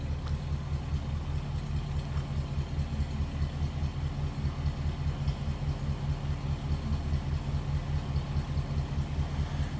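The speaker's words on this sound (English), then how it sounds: "Just a smooth running, good sounding V8 underneath the hood of this." A 1955 Ford Fairlane Town Sedan's V8 engine idles with a steady, low rumble, smooth and unchanging throughout, with no voices over it.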